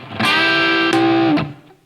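Electric guitar with the middle pickup combined with the neck pickup, overdriven: a single sustained note held for about a second, with a brief pitch shift at the end, then a short decay.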